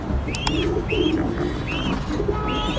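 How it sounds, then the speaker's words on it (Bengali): Several short coos from a pair of Sirazi pigeons come one after another over a steady low background hum, fairly close and clear, with no talking. "বাচ্চা সহ এই সিরাজি কবুতর জোড়াটা"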